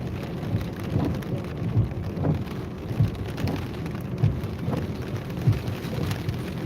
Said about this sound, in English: So we got another storm coming here, trailing right in behind the one that just come over us with the hail.